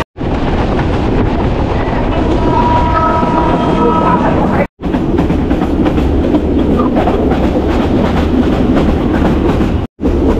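A passenger train rolls along steadily with continuous loud rumble and rattling clatter of carriages, heard from inside while people stand riding, with brief wind-buffeted dropouts.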